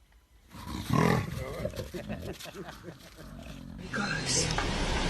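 Lioness roaring during a high-speed ambush on a fleeing antelope, a loud rough roar rising at about one second over a steady layer of talk, with other animal noise and wind continuing afterward.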